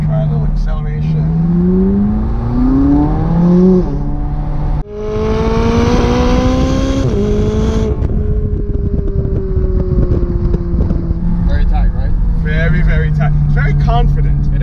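A McLaren sports car accelerating on a downhill road, its close engine note rising sharply in pitch, breaking briefly at a gear change, then pulling hard again before settling into a steady cruise.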